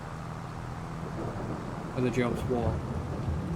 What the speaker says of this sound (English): It's raining till 10 o'clock.